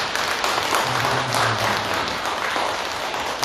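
A church congregation applauds during a Sunday morning worship service, a dense, steady wash of many hands clapping together, fairly loud and continuous from start to finish.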